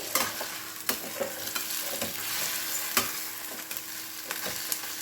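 An egg with garlic chili paste frying in a pan, a steady bright sizzle throughout with several sharp scrapes and taps as a spatula turns it, close and clear with no voices.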